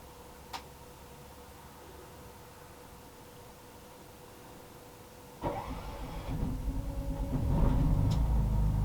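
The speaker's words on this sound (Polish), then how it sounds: "Wystartował agregat." A generator on a Mercedes Vario camper truck starts after quiet ticking, firing up with a sudden rumble and settling into a steady, growing drone nearby.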